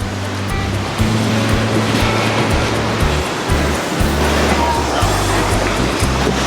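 Ocean surf rolls steadily onto Bavaro beach, a loud continuous wash of breaking waves with low rumble, heard close on a bright beach day.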